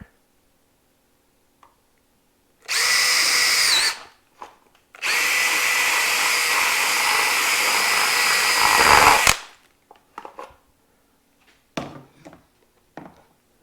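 A power tool whines loudly while cutting a slot in the cover of a 1997 Seadoo, running in a short burst and then a longer sustained run, followed by scattered clicks and handling knocks.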